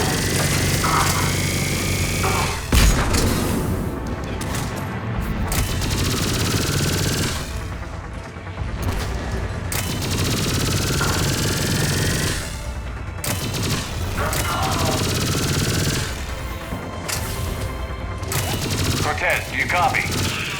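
Shotgun and other gunfire crack through a Mass Effect 3 battle, loud and continuous with repeated sharp bursts layered over dense combat noise and explosions, with occasional talk mixed in.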